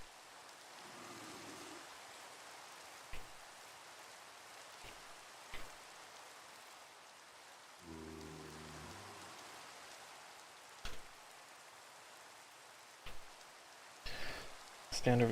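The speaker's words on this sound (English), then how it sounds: "This rain makes it so hard to see." Rain in a hardcore Minecraft game hisses as a faint, steady wash, with sparse clicks and short tonal game effects dotted through it.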